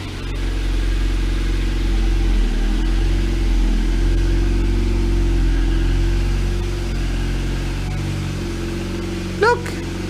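A Ford Focus Mk1 1.6 on a test drive after a clutch change: steady, loud engine drone and road rumble from inside the car, holding an even pitch throughout.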